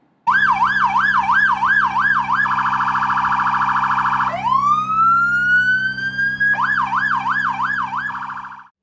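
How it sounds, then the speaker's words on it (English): A loud Chesterton police car siren wails in rising and falling cycles, switches to a rapid yelp, sweeps up again, then returns to wailing before cutting off. "we'll have the officer that's in the vehicle activate the siren now"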